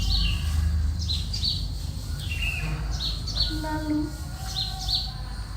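Birds chirp in short repeated high tweets, scattered through a steady low rumble with a brief spoken word.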